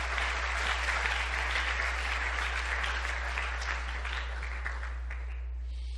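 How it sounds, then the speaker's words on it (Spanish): A church congregation applauds steadily and densely for about six seconds during a Spanish-language sermon, the clapping fairly distant and sustained, easing off slightly near the end. "Dele un aplauso al Señor si usted me está entendiendo lo que estoy diciendo."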